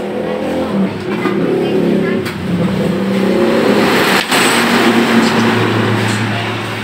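A drag racing car's engine drones and revs loudly and continuously as it accelerates, with pitch shifting through gear changes and a brief dropout near the end, heard up close.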